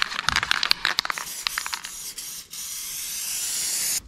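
Adhesive sprayed from an aerosol can onto a car dashboard, heard up close as a run of short hissing bursts that settles into one long steady spray, with no talking.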